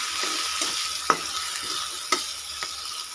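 A spatula stirs and mixes a rice mixture with spices in a frying pan, giving a few soft scraping knocks over a steady low sizzle, close by and fairly quiet.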